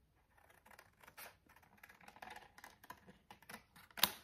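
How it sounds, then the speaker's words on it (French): Scissors snip around a stamped paper flower, a quiet series of close, irregular crisp cuts that builds to a sharper final snip. "avec mes ciseaux, je vais donc"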